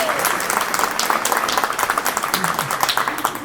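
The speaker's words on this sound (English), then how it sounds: "Little round of applause" A conference audience at an anniversary event gives a short round of applause for a speaker walking on stage; dense, steady clapping fills the room, with faint crowd murmur beneath.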